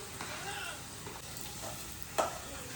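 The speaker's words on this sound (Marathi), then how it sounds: "हे बघा आता कांदा टाकतोय." Chopped onion goes into a sizzling pan, giving a soft steady frying hiss with faint stirring scrapes and a sharper clatter near the end, quiet and close.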